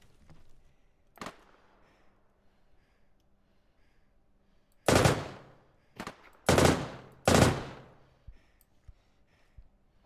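Several sharp gunfire bursts from a Scorpion submachine gun in the video game Deadside, one brief shot early then three loud close bursts in quick succession, each ringing out and decaying.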